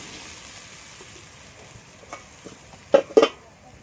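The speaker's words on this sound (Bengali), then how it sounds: "এবার পরিমাণ মতন জল দিয়ে দিচ্ছি।" Water poured into a pan of lightly fried potato and papaya, with a few soft stirs at first and then two sharp, loud sizzling bursts close by.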